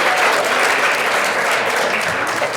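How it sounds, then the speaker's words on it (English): An audience at an award ceremony breaks into loud, full applause. Many hands clap in a thick, continuous roar that sounds close, with no talking on top. "I want to give Anita a big round of applause."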